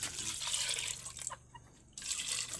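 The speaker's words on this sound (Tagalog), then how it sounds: "Sabawan ng kaunting tubig" A little water is poured into simmering cooking broth, a short splashing trickle that briefly drops away before resuming, close and fairly loud.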